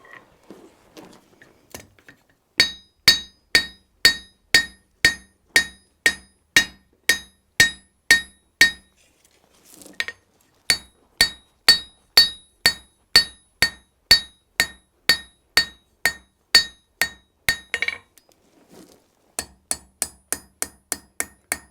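Blacksmith hammering hot steel on an anvil while forging an 18th-century style knife, loud ringing metallic strikes in steady rhythmic runs of about two per second, separated by short pauses, no talking.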